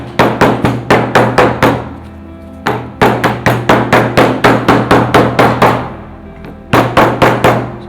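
A hammer strikes leather and sole material in shoe making, delivering rapid, evenly spaced loud taps in bursts of about six to eight blows with brief pauses between groups, close and alone without talk.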